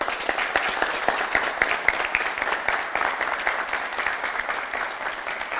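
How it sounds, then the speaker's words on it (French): A room full of people gives a warm round of applause for the coproducers, with crisp individual claps audible within a dense, steady wash that holds at a fairly loud level throughout. "je vous demande un banc d'applaudissements"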